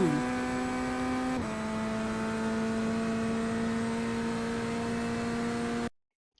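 Corvette GT3 race car engine in the iRacing simulator at VIR, a steady high-pitched drone with a sudden gear-change drop early on, then holding constant before cutting off abruptly near the end.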